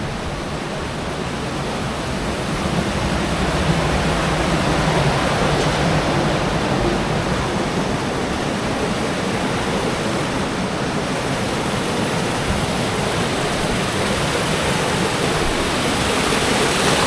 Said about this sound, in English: This is a far bigger water wheel too, far bigger than the one